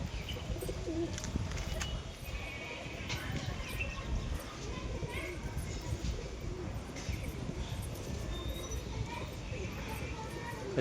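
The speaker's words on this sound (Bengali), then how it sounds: "তো কবুতরগুলো তোমাদের একবার দেখিয়ে দিই।" A flock of pigeons coos softly after landing, low murmuring calls repeating at a moderate distance under quiet ambient noise, with occasional faint voices.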